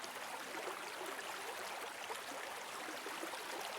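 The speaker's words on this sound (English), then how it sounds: "And ahead of you, you see this forest and the sound of the river getting closer." A river flows steadily through a forest, a soft, even hiss of running water heard alone at a moderate distance without pause.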